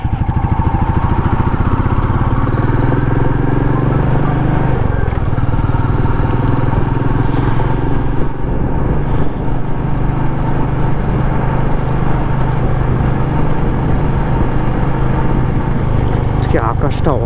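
A motorbike engine drones loud and steady while riding along a road on a weekend trip out of Kolkata, with rushing wind noise and a voice talking over it.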